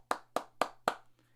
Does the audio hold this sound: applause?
yes